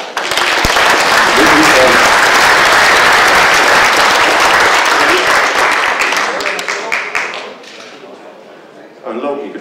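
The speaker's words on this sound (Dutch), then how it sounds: "mag ik dan nogmaals een oorverdovend applaus?" Loud, dense applause from a live audience at a Dutch stage show fills most of the stretch, then thins and fades before a brief flurry of renewed claps near the end; crowd murmur sits underneath.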